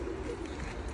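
Pigeons of a special breed kept in a loft in Poland, including Budapest birds with yellowish or gray necks, coo softly and steadily throughout with low murmuring calls close by.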